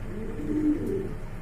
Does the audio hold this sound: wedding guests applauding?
no